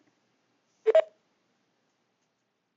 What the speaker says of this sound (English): I have to manually do everything through the phone, so I cannot just unmute Larry.